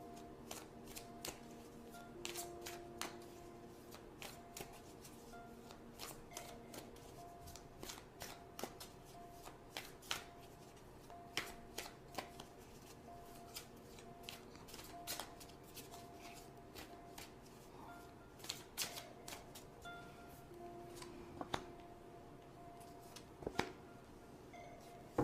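Tarot cards are shuffled steadily by hand for guidance, a soft continuous riffling and flicking with frequent sharp card snaps, close and quiet, with no talking over it.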